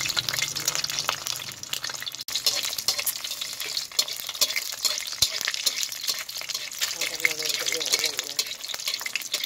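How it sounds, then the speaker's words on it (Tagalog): Two eggs frying sunny side up in a pan, a steady broadband sizzle with crackle and spatter throughout, punctuated by occasional stirring or utensil clinks, with faint voices in the background. "So, sunny side up na rin ako ng dalawang itlog."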